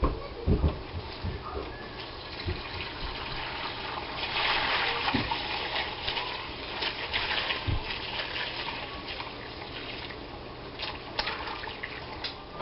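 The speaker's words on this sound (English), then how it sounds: "So I'm going to pour it through the strainer to get out the bits of onion and the bones." Cooked beef soup broth, with onion pieces and bones, pours through a strainer in a steady, gushing liquid stream, splashing and trickling continuously with occasional heavier sloshes, no voices.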